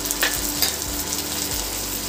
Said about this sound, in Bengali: রসুন কাঁচা লঙ্কাটা দিয়েও পেঁয়াজের সাথে ভালো করে ভেজে নেব।